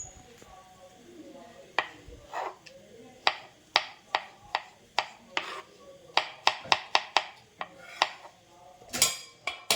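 A knife cuts mushrooms on a board for a spicy mushroom gravy. The sharp taps come in an irregular, fairly quick rhythm, close and clear over a quiet room.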